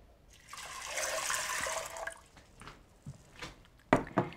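Water pours from a container into a pot for cooking barley, a rushing splash for about two seconds, followed by a few scattered drips and small clinks, close and fairly quiet.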